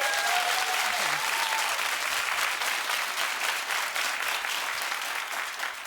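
Studio audience at a daytime talk show breaks into loud, dense applause that holds steady for several seconds, with a brief whoop or cheer at the very start before fading slightly.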